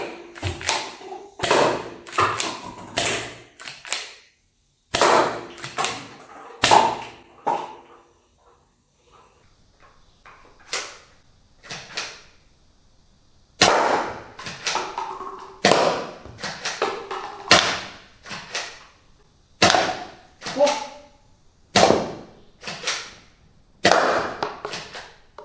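A soft-dart toy gun shooting bamboo-joint foam darts, giving a string of sharp, close taps and pops in irregular bursts, with a short quiet stretch near the start and no talking.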